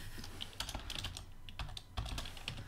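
Rapid typing on a computer keyboard during a Minecraft gaming session, a steady patter of close, crisp key clicks with no voices.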